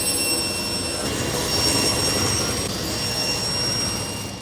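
A power saw cuts finger-jointed pine boards, giving a loud, steady whirring roar with thin whining tones running through it, close by and uninterrupted, with no voices.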